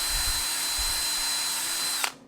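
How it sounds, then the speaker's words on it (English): A power drill fitted with a 1/8 inch bit drills out screw holes in a plastic bumper part for an Axial SCX10-2 RC crawler, a steady high whine running for two seconds before stopping abruptly. "I'm going to take an 1/8 inch drill bit in my drill and drill those screws out"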